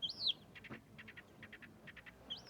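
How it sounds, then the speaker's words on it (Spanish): Small birds sing at the Lagunillas ski area in Chile: faint, clear high whistled phrases at the start and end, with soft rapid triplet chirps in between, set against a quiet open mountain background. "puedes escuchar el canto de los pajaritos"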